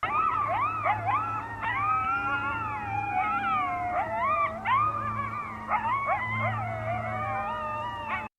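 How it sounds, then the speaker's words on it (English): Several coyotes howl and yip together in overlapping rising and falling wails, a dense chorus playing continuously as a recording. "All right, so here are the Howling Coyotes."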